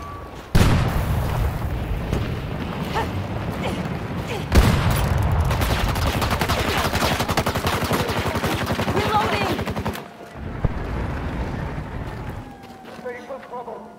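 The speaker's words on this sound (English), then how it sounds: "that guy sniped me from across the map" Sniper and other gunfire in a hardcore Battlefield 2042 match on Arica Harbor, rapid repeated shots and booming bursts rattling over several seconds amid battle noise, with players talking over it before the din drops away.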